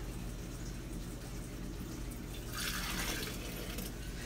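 Broth pours from a measuring cup into quart canning jars during pressure canning, a brief liquid splash and trickle rising midway over a low steady kitchen hum.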